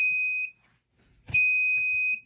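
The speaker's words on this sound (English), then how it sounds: "now that it's detecting over that temperature, the buzzer goes off" A gas leak detector's electronic alarm buzzer sounds two loud, steady high-pitched tones, each lasting about half a second or more, separated by a brief quiet pause.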